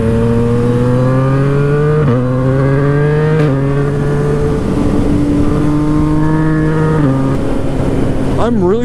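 A Yamaha FZ-09 motorcycle ridden on a twisty road, its engine loud and close with a harmonic whine that climbs through the gears, dipping briefly at each shift before rising again, and a voice faintly under it.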